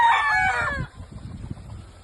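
A broad bull stag Spartan rooster crows loudly and close at the start, the call trailing off within a second, followed by soft low rustling and shuffling.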